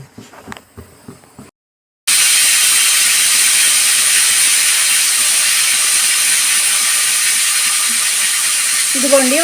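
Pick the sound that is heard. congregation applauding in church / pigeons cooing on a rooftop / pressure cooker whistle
pressure cooker whistle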